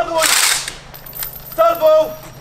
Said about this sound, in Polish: Ładuj! Salwą! Pan! Ładuj! Salwą! Pan! Ładuj!